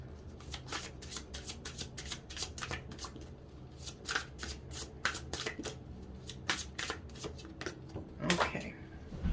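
Fall equinox oracle cards being shuffled by hand, a rapid run of crisp riffling flicks and slaps that repeat close up, quiet and without talk.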